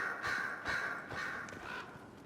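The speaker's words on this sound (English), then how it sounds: "This is the, I guess you'd call it the rookery, where she keeps all of her messenger crows." Messenger crows in a castle rookery in the video game Dragon Age Inquisition give repeated harsh caws, several calls a second apart, close and clear over soft background noise, with no talk.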